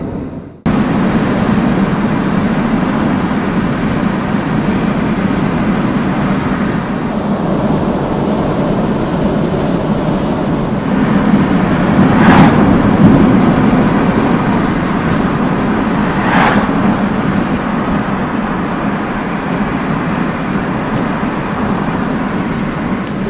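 Wind blows steadily across a Yi 4k camera microphone outdoors on a foggy morning, a loud continuous low rumble and buffeting that keeps going throughout with two brief gusting swells.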